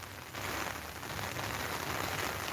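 A broad steady wash of rain falls, swelling up after a brief quieter moment and then holding constant.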